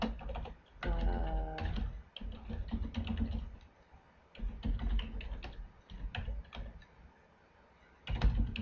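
Someone types in a web address on a computer keyboard, close-miked, with uneven bursts of rapid key clicks separated by short pauses and a louder tap near the end.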